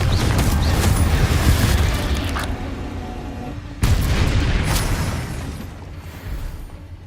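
Heavy booming blasts from a fire spell in Hogwarts Legacy, a loud rumbling explosion that slowly decays, followed by a second sharp burst that rolls off again.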